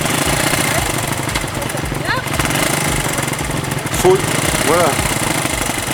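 A 1973 Honda CBS 125 motorcycle engine revs and pulls away close by, a steady mid-pitched drone with rising pitch sweeps, while someone talks over it giving riding instructions.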